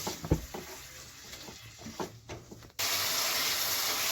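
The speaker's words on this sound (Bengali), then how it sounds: "চিনি দিয়ে সামান্য একটু জল দিয়ে মশলাটাকে আমি ভালোভাবে কষিয়ে নিচ্ছি" Spice paste with sugar and a little water being stirred and fried, scraping and rubbing strokes up close, then a sudden shift to a loud steady sizzle for the final second.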